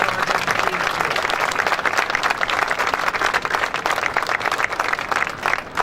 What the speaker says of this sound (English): I think we all owe him a big round of applause for starting this project